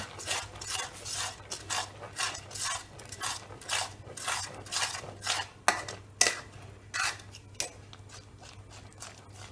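A spoon works pasta mix into a thick sauce in a pan, giving repeated scraping and stirring strokes in an uneven rhythm, fairly close but soft, with a low steady hum underneath.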